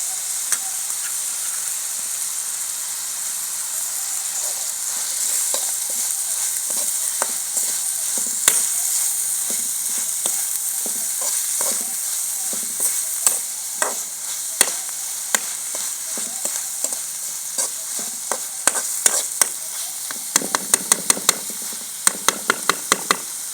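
Onions and tomatoes fry for Punjabi kadhi in a village kitchen, a steady hiss of sizzling oil broken by spoon knocks and scrapes against the pan that grow more frequent toward the end.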